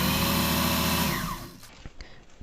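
A sewing machine stitches the back seam of a chudithar pant with a loud, steady mechanical whir that winds down and stops partway through, followed by a few faint clicks.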